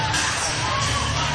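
Crowd noise at a girls' high school basketball sub-state semifinal, Holcomb against Goodland, a dense steady wash of murmuring voices and chatter filling the gym with no single voice standing out.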